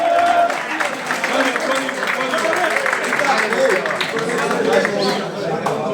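A crowd applauds a footballer at a gathering of a former club's players, steady clapping with loud talk and chatter over it throughout.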